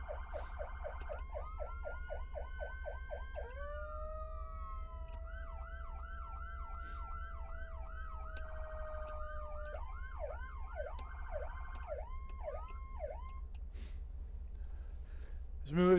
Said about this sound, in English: Which obviously lets us run our dual tone siren.